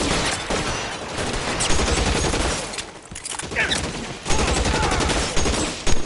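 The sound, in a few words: gunfire in the video game L.A. Noire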